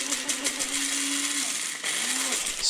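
An electric coffee grinder whirring through coffee beans, a steady, close, high-pitched buzz with a slight drop in pitch as the load shifts and a brief dip before grinding resumes.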